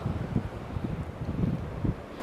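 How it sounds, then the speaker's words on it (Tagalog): Strong gusts on Halla Mountain peak in Jeju buffet the microphone in a low, rumbling roar that rises and falls in waves, loud and close. "Ay, grabe ang hangin dito."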